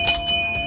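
A notification bell sounds, two or three bright metallic chimes in quick succession, each ringing briefly and fading, heard alone.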